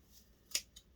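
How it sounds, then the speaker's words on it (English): Scissors snip through the folded ends of yarn strands for an acorn craft, a single crisp cut near mid-clip followed by a fainter second snip, close and quiet against a soft background. "And then I'm just going to cut the ends"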